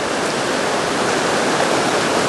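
Strong rushing water from a brook swollen to river size fills the scene with a steady, close, continuous roar; the dog swimming in it cannot be picked out beneath the broadband flow.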